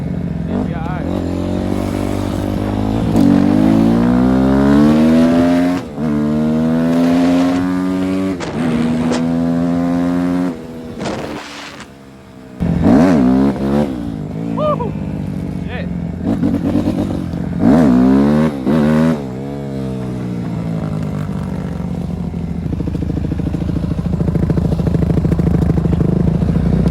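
A Kawasaki KX250F dirt bike with a carburetor problem revs loudly nearby, its engine pitch repeatedly climbing and falling in sharp bursts with a few brief drops to near idle.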